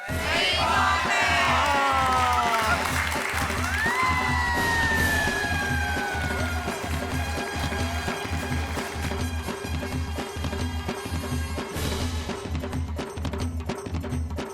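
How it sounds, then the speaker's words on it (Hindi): A studio audience on a Hindi TV comedy show cheers and yells loudly during a balloon-popping game segment. The crowd noise runs continuously for the whole stretch, with whistle-like tones sweeping over it. "इसी बात पे तालियां हो जाए"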